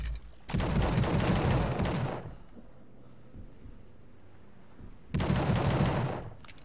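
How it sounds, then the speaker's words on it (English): Two loud bursts of automatic gunfire, each about two seconds long and separated by a quiet pause, are aimed at barrels in The Suffering video game, with no talk during the shots. "Shoot these barrels."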